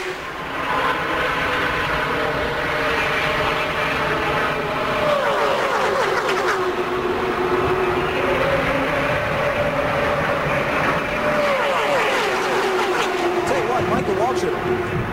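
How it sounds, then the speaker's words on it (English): Stock race cars roar past on a speedway during a 2002 Gatorade 125 qualifying race, a dense steady engine drone with rising and falling pitch sweeps as cars pass, under continuous commentary. "Cars going by on the inside."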